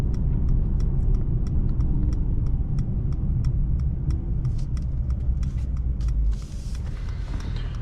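A 2020 Mercedes-Benz E53 AMG accelerating hard on a 1/8 mile run, its steady low engine roar filling the cabin throughout with regular ticking clicks above, easing slightly near the end.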